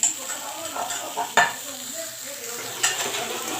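Indian gooseberries fry with salt in a pan, a moderate sizzle punctuated by a few sharp metal clinks of a spoon against the pan.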